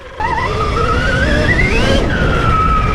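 Stark Varg EX electric motorcycle starting up and riding by, its electric whistle rising in pitch as it accelerates, then dropping to a steady tone, loud and close over rushing road and wind noise.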